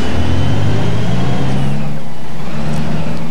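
City bus diesel engine in the OMSI bus simulator pulling away, a loud steady low drone with slowly shifting pitch, no voices over it.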